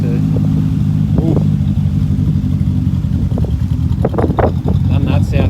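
A Holden VL Turbo engine idles with a steady low rumble, then revs up in a few short bursts near the end, while a person talks over it.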